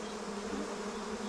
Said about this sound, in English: These are the giant Asiatic bees, the biggest of all honeybees.